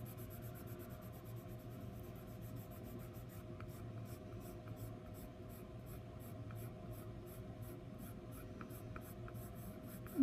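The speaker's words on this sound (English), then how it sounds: "find the dullest part of your pencil, just real light, kind of back and forth motion" A Prismacolor colored pencil is shaded lightly across paper with back-and-forth strokes, giving a soft, even scratchy rubbing with a quick regular rhythm, close and quiet.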